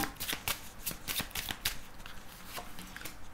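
Tarot cards are shuffled by hand for a reading, a rapid flutter of riffling and slapping card edges in quick bursts, close and quiet.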